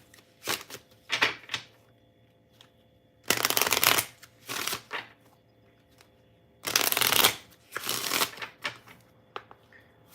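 Tarot romance cards being shuffled by hand in several quick, crisp riffling bursts, close and clear, separated by short pauses and light card handling.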